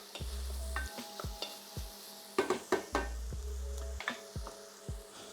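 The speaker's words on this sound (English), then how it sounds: "Just give that a quick stir through" A spoon scrapes and stirs grated garlic in a dry pan for a chilli con carne, giving a run of close, repeated scraping strokes over a faint sizzle, with no talking.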